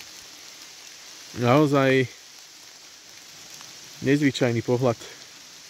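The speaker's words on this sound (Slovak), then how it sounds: "Ale dobre, že prišiel tento dážď." Steady rain falls in a forest during a strong storm, a constant hiss of drops that continues throughout, while someone speaks briefly over it twice.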